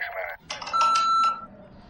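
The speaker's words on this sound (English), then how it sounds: "Leave a message after the beep." Short electronic tone from an answering machine in the game Star Trek Online, a steady beep held for about half a second, following a brief burst of speech-like sound.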